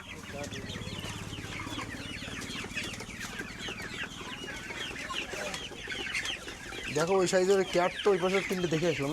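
Hybrid Sonali chickens, about 47 days old, cluck and chatter steadily at close range, growing louder and more excited toward the end, while people talk over them.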